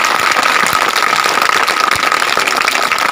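An audience applauding after a song performance, steady dense clapping that fills the whole stretch, with a faint tone running underneath.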